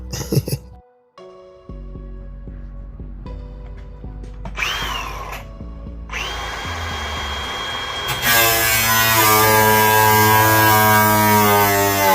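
A power tool throwing sparks whines and grinds loudly, rising into a harsh, sustained cutting roar with a bright, gritty hiss, close and continuous.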